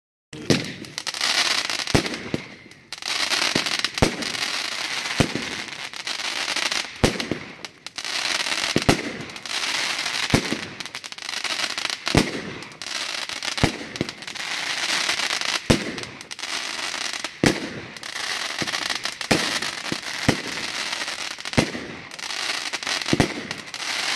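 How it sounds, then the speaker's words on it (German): A Tropical Thunder firework cake, 19 shots over 35 seconds, fires at a public fireworks show. Rhythmic booming launches repeat about once a second over a constant bright crackling of stars, loud and sustained. "Zündpunkt Nummer 14, Tropical Thunder, auch 19 Schuss, 35 Sekunden zu 22 Euro."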